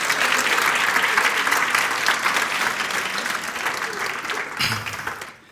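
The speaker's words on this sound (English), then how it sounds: "So can we give him a round of applause?" Audience applause at an impact report launch event, a full round of crowd clapping that gradually thins and fades out at the end.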